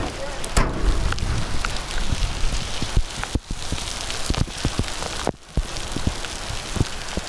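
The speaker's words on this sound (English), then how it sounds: "what is that, hail?" Hail pelts down outdoors beside an old barn-find Firebird muscle car, a steady dense clatter of hits on surfaces with sharper individual impacts and brief gusty swells, no talking.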